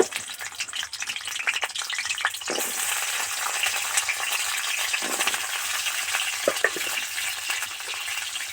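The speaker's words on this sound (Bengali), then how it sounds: "দিয়ে পটলগুলো একটু ভেজে নেব পটলগুলো তেলের মধ্যে দিয়ে দিচ্ছি" Pieces of pointed gourd (parwal) crackle and sizzle in hot oil, with a loud, dense frying hiss throughout and a few light stirring clinks; no one speaks.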